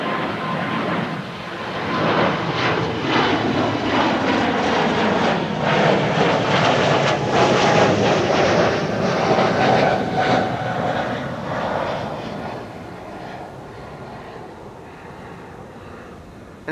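An Embraer jet bound for Ibiza passes at Amsterdam Schiphol Airport, its engine roar building, holding loud and broad, then fading away, with no talking.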